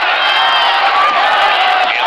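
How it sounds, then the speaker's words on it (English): A packed arena crowd at the 1993 NBA Finals, Game 5, Chicago Bulls at Phoenix Suns, roars and cheers for the Suns in a loud, continuous wash of voices with scattered whoops. "Now the crowd trying to get the Suns into it early."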